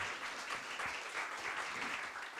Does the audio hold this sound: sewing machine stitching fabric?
no